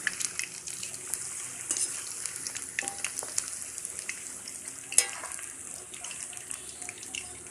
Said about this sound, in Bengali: পকোড়া ভাজা হচ্ছে, অনেকটা লাল লাল হয়ে এসেছে।